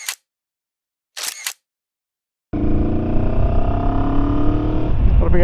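Two short bursts of a man's speech give way to a Rieju Xplora 707 motorcycle engine droning loudly while riding on a Spanish road, its pitch shifting near the end as the gears change.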